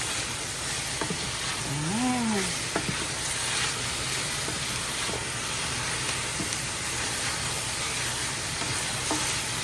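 Pork sautéing in a pot for sinigang gives a steady, even sizzle throughout, close and continuous, with a brief faint tonal chirp early on.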